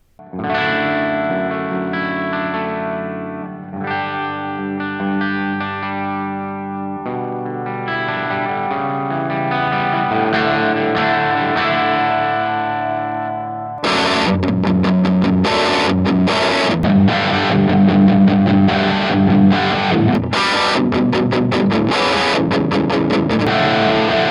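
Heavily distorted electric guitar chords through a Love Pedal Purple Plexi and a miked 4x12 cabinet ring out loud and sustained, then shift into a brighter, choppier chugging riff, with no voices.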